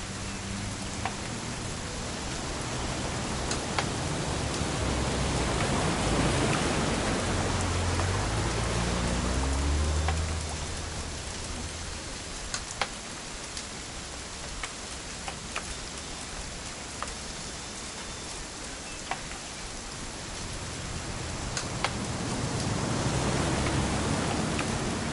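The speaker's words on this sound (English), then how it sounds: "It's gonna rain the whole weekend" Steady rain falls in What Remains of Edith Finch, a dense, even hiss with scattered sharper drips and a low rumble that swells and fades, continuous for the whole stretch with no voices.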